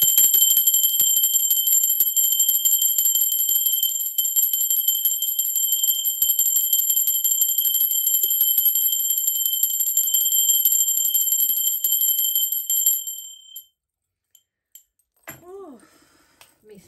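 A bell rings with a bright, sustained metallic tone, ringing steadily for about thirteen seconds before cutting off, followed by a brief voice and faint sounds.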